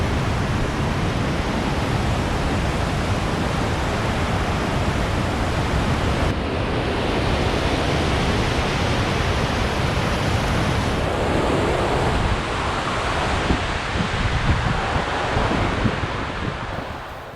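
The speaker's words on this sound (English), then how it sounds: "we just sat for a while in the sound of the Granite Creek Falls" Granite Creek Falls in the Gros Ventre Wilderness pours in a steady, dense broadband roar, constant and enveloping for the whole stretch with no voices, swelling slightly louder near the end.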